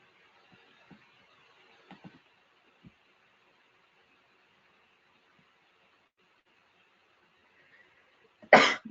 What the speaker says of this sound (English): Pardon me, I sneezed